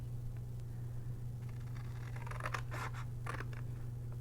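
Scissors snip through card stock during a Lawn Fawn spider card class, a few crisp cuts in the second half over a steady low hum, fairly faint and close.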